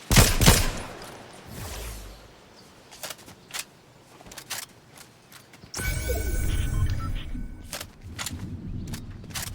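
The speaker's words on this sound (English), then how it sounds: "Why are you shooting at me?" Gunfire in Fortnite: sharp bursts of shots at the start, then scattered single cracks spread across the scene, followed by a louder stretch of rapid firing and mechanical clatter, with a player talking faintly.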